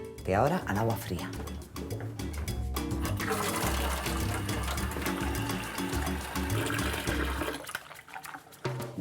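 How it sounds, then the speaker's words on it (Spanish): Cold tap water streams steadily over cooked shrimp in a kitchen sink, a loud continuous gush that runs throughout and cuts off near the end. "Después los voy a pasar por el chorro de agua fría"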